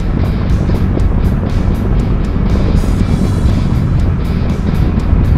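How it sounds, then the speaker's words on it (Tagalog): Steady, loud wind roar with road noise from a Dominar 400 motorcycle riding fast on an expressway, continuous throughout with no talking. "dito tayo sa expressway, maingay yung hangin."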